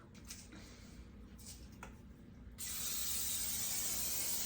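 Pam cooking spray hisses steadily onto a teal cookie sheet, starting with a few short faint bursts and then turning into one louder continuous spray close by.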